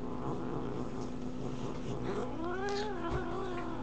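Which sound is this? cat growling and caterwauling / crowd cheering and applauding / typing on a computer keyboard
cat growling and caterwauling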